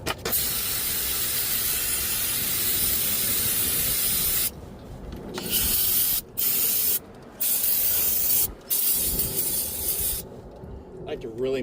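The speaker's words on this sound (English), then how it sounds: "Give it a good spray with some brake clean." A long, loud aerosol spray of brake cleaner hisses close by on a Chevy Cobalt's front brakes, followed by several short spray bursts separated by brief silences.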